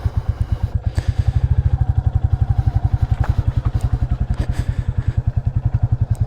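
A Royal Enfield Classic 350 motorcycle engine thumps in a steady, rapid rhythm up close, running continuously with light mechanical clatter and no voices.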